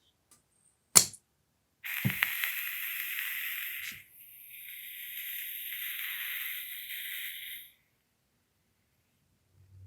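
Sharp click, then a steady hiss of gas leaking from an airsoft gun magazine that stops briefly and resumes more softly before fading out, with no voices.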